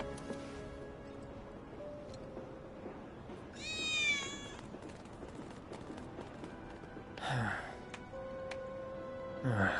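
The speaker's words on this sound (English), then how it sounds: "I think one of Betty's cats." A cat meows twice in the video game Final Fantasy VII Remake, the two short calls spaced a few seconds apart. They rise briefly over quiet game ambience and faint background tones.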